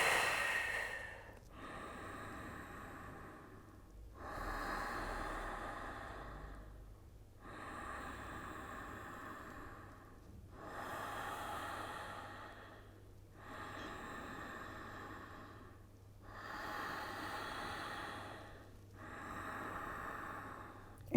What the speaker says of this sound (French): la respiration yogique Ashtangi, la respiration Ujjayi